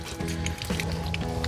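A Ferrex pressure washer hose sputters as trapped air and water burst out unevenly, giving gurgling spurts over a steady motor hum, close and moderately loud.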